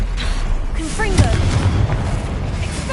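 Confringo blasting spell explosions in the video game Hogwarts Legacy, dull booms and bursts landing amid combat noise, with voices calling out over them throughout.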